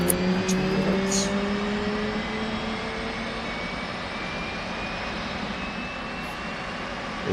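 In the DCS flight simulator game, an F/A-18's auxiliary power unit spools up with a steady jet-like whine and a faint high tone that holds over a continuous airy roar.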